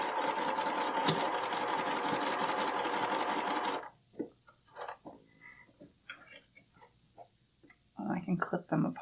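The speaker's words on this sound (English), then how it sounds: "I'm going to do my little back stitch over the 2 edges." Up close, a sewing machine runs a short back stitch over two fabric edges of a Cashmerette Loftus bralette, a loud whirring burst of about four seconds, followed by soft clicks and handling noises as the work is moved.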